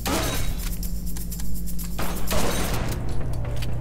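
Rapid bursts of gunfire from the Zertigal weapon in the video game Blue Estate, loud close sharp shots in quick clusters with a short lull midway.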